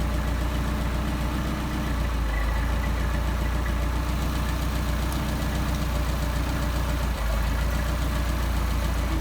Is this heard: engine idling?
yes